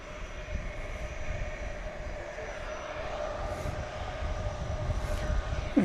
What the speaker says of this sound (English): And here comes the 757